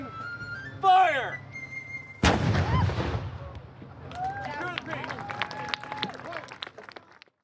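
Cannon fired at a historical reenactment: a sudden heavy boom erupts mid-clip, preceded by a shouted command and followed by a long rumbling decay beneath crowd noise and scattered voices.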